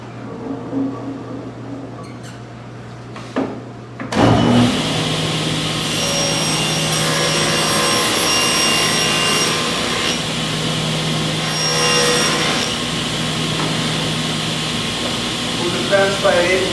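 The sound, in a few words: table saw cutting a wood veneer panel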